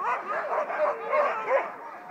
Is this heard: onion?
no